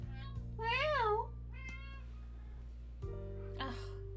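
A cat meowing loudly, with a couple of drawn-out, wavering meows and shorter cries over a constant low electrical hum indoors.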